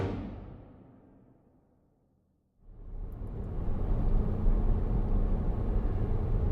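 A car driving on the road to a mountain hike, engine and road rumble fading almost to silence, then returning as a steady low cabin drone.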